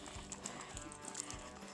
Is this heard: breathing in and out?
no